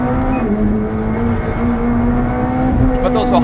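A McLaren 765LT at high speed on the Nürburgring gives a loud, sustained engine drone with strong tonal harmonics, plus some wind and road roar.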